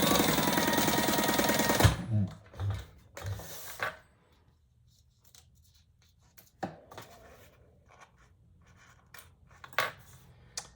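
A sewing machine stitches across the bottom of a fabric wallet in a loud steady whirring run for about two seconds, then stops, leaving quieter handling and shuffling noises.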